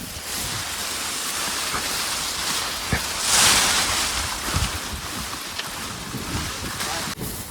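Strong wind sweeps across open farmland in a Botad-area village, a loud, continuous, gusty rush that buffets the microphone and swells briefly in the middle.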